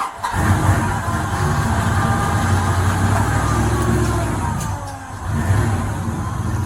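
A car engine is revved to warm it up, giving a loud, close, sustained roar that dips briefly near the end before rising again.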